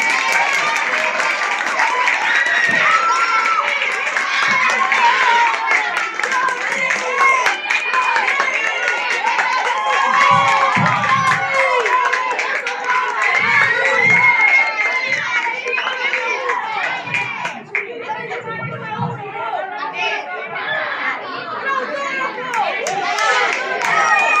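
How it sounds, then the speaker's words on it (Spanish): A school graduation audience claps and cheers for a young boy singer at San Xose Obreiro, a loud, dense roar of applause with shouts and chatter mixed in, holding steady for the whole stretch. "Un forte aplauso para él."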